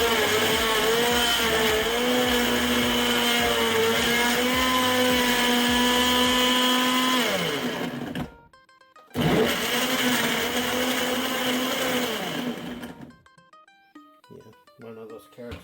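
A blender whirs at high speed through chicken tortilla soup ingredients, loud and strained with a falling pitch, cuts out briefly, restarts, then stops, leaving a quieter tail.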